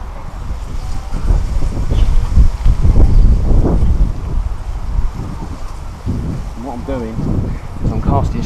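Strong wind gusts at a lakeside feeder fishing match at Ferry Meadows, booming as a heavy, continuous low rumble across the microphone while someone talks over it.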